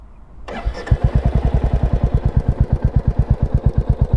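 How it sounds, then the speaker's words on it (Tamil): A 2026 Royal Enfield Bullet 350 with modified exhaust starts up close, then settles into a loud, steady, evenly pulsing thump at idle. "எக்ஸாஸ்ட் நோட் பார்த்தீங்கன்னா காமிச்சிட்றேன்."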